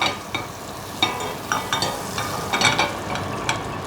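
Butter in a Strata fry pan, a soft sizzle under repeated scraping and tapping of a utensil against the pan, close and fairly quiet.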